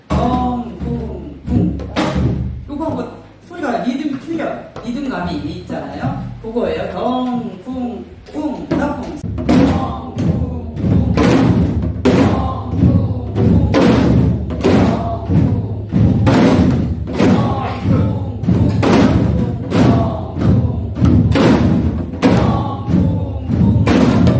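A Korean janggu drum plays the jajinmori rhythm for a folk song, with steady, even strokes of deep thuds and sharper taps repeating loudly. A voice speaks over the opening stretch.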